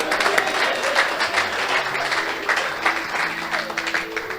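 A church congregation applauding and cheering in praise, dense steady clapping filling the room with voices mixed in.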